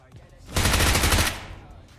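Automatic gunfire in the game PUBG Mobile, a loud close burst of rapid shots lasting under a second, then a fading tail.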